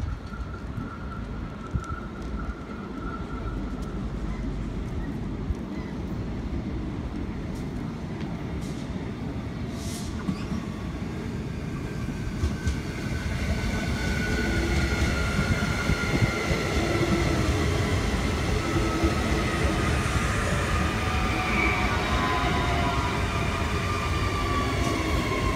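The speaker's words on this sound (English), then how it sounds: "Approaching South Brisbane Station, we have a Gold Coast service arriving into Platform 1." Gold Coast service train arriving into Platform 1 at South Brisbane Station, a long steady rumble of wheels on rails with squealing and hissing brakes that swells louder halfway through as the train draws in close.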